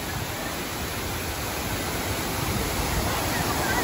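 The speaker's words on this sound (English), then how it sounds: "Oh my goodness, waterfall" An indoor waterfall inside a Rainforest Cafe restaurant at Disney Springs pours steadily, a dense, even rushing hiss that fills the space without pause and grows slightly louder toward the end.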